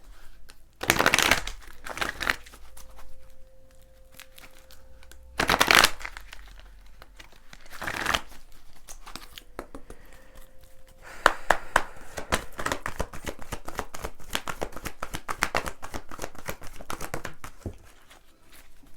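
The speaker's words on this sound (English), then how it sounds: "Let me pull a Trust Your Vibes card for y'all." Oracle cards from a Trust Your Vibes deck are shuffled and pulled by hand, giving several short bursts of riffling and papery flicks, then a longer stretch of soft, continuous card rustling in a quiet room.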